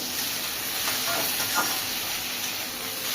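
Sliced okra frying in hot oil in a pan, a steady close sizzling hiss that holds evenly throughout, with faint talk underneath.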